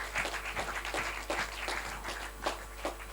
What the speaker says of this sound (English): a huge round of applause once again for all these 6 teams